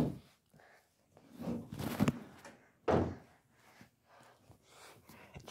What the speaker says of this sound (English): Oh, they're accordion doors.